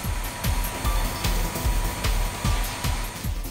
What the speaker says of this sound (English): It's so nice to clean with a vacuum cleaner!